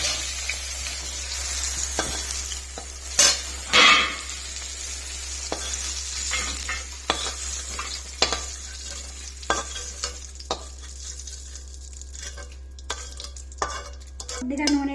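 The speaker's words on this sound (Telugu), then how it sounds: "కొద్దిగా నూనె వేసుకొని దొండకాయలు వేయించేసుకోండి." Ivy gourd (dondakaya) fries in oil while a utensil stirs and scrapes the pan, sharp irregular clatters over a steady background sizzle and hum.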